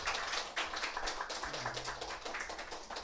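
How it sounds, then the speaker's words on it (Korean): Audience applause at an invited lecture on Christianity, held before a room that includes pastors: a steady wash of dense clapping that runs the whole time, fairly close and continuous, with a faint low hum underneath. "박수 한 번 부탁드립니다."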